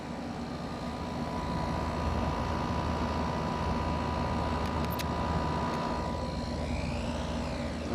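An LG 12000 BTU air conditioner with an LG compressor runs at a steady level, a constant low hum with a fan's airy whoosh, heard alone without speech.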